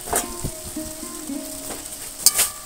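Ripe palm fruit fritters frying in hot oil, a soft steady sizzle with a few utensil clinks and scrapes as they are turned, and a brighter crackle near the end.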